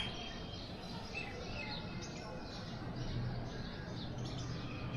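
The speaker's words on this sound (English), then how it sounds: "The chirping of the birds" Birds chirp and tweet outdoors on a cold, breezy day, small calls scattered over a steady wash of wind and ambient noise, faint and somewhat distant.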